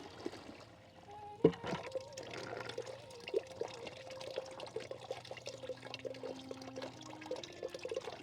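Clothes being rinsed by hand in water, splashing and dribbling with a sharp slosh early on, then softer trickles and drips mixed with faint background sounds.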